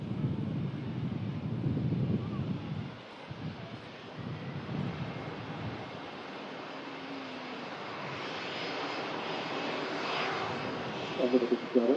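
Twelve-year-old Airbus A320-200 at Manchester Airport, a steady broadband engine roar with wind buffeting the microphone, holding fairly level and then rising slightly toward the end.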